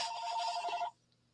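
A telephone bell rings in a loud continuous burst that cuts off abruptly after about a second, followed by near silence with a faint room hum.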